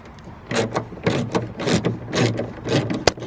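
A ratchet removing 8mm bolts under the hood of an Opel Corsa D, heard as a series of close, rapid clicking bursts with a sharp snap near the end.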